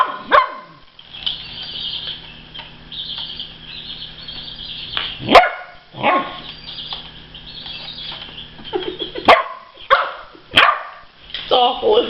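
Puppy and dogs playing roughly, with scattered sharp barks and growls popping out at intervals over a steady background, while people talk nearby.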